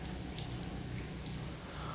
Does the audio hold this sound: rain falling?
yes